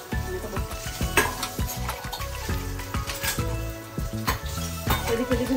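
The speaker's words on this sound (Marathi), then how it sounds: "माझ्यापेक्षा आवाज मम्मीच्या भांड्यांचाच असेल ना" Metal pots and utensils clatter and scrape in a busy home kitchen while vegetables fry and sizzle, with repeated sharp clinks and stirring knocks over steady frying noise and music throughout.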